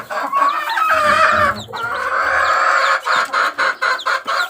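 Two-day-old chicks peep loudly and shrilly up close, first in a continuous high chorus and then in rapid, choppy bursts of repeated chirps.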